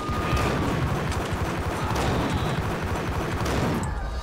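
Dense, continuous gunfire from a Max Payne shootout, with rapid overlapping shots and booms forming a loud, unbroken barrage that cuts off sharply at the end.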